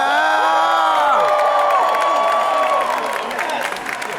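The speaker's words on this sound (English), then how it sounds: "Give yourselves a round of applause." A large Comic-Con Hall H audience at San Diego Comic-Con cheers and applauds loudly, with whoops and shouted voices rising above a dense, sustained roar that eases slightly toward the end.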